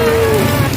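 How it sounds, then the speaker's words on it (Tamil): Heavy rain pours down in a dense, unbroken hiss that stays loud and steady throughout, with no voices. "மழை பயங்கரமா வந்துட்டு இருக்கு."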